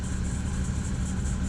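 A MerCruiser boat engine idles steadily at about 850 to 900 RPM with a constant low rumble and even hum, close by and uninterrupted.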